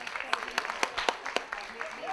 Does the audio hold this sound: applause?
yes